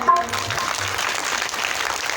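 A crowd at a Hindu Bhagavat katha gathering in Chhapra, Bihar claps for the villagers, a steady wash of applause from the start, briefly mixed with a faint tone near the beginning.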